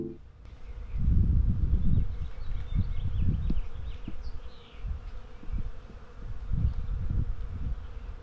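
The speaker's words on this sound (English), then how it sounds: "The bees are going crazy on this avocado tree." Bees swarm on a flowering avocado tree in a garden, with a dense, continuous low buzz rising and falling as insects pass near, and a few faint bird chirps far in the background.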